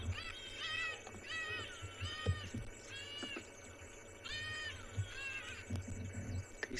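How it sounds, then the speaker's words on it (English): Go-away birds call at sunset on a safari at Tswalu: a series of nasal, drawn-out, meow-like cries repeat in a loose rhythm, moderately near, over a low background rumble. "These go-away birds are making the most amazing sound."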